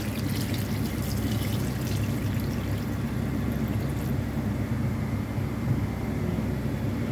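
Water pours into a pot of chicken caldereta with potatoes and carrots, a continuous, even rushing that holds steady for several seconds, close by and moderately loud with no talking.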